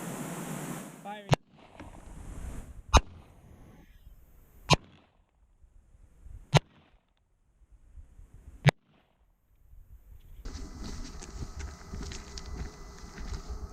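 Five sharp, loud gunshots fired into a homemade dummy, spaced irregularly a second or two apart with quiet gaps of rustling between them, followed by a steady background noise near the end.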